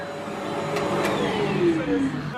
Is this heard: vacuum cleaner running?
yes